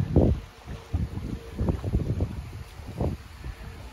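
Gusty wind buffets the microphone in uneven rumbling bursts, rising and falling over a steady background hiss outdoors on a riverbank in late autumn.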